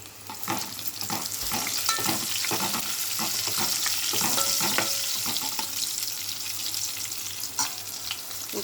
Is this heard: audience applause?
no